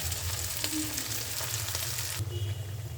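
Blended banana flower paste tipped into a hot pan with green chillies, setting off a steady, close frying sizzle that hisses continuously throughout, with a few light scrapes partway through and no voices.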